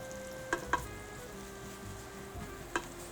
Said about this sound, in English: Frying it nicely in the oil here